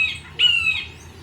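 A woodpecker in Costa Rica, at a busy feeding station near La Fortuna, gives two harsh, squawking calls, the second louder and drawn out, close by over quiet background.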